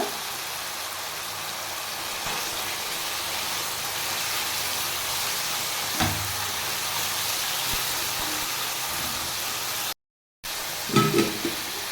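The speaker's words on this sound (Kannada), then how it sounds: "ಟೊಮ್ಯಾಟೊನು ಅಷ್ಟೇ ತುಂಬ ಚೆನ್ನಾಗಿ ಫ್ರೈ ಮಾಡ್ಕೊಳ್ಬೇಕಾಗುತ್ತೆ" Tomatoes with mint and coriander leaves fry in a pan, giving a steady close sizzle and hiss with occasional stirring scrapes, briefly cut off near the end before a louder clatter.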